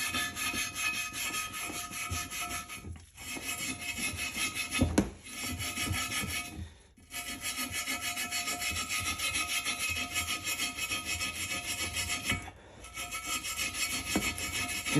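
A brush scrubs aircraft paint remover off an aluminum wheel in steady back-and-forth rasping strokes, close and continuous with a few short pauses between bursts.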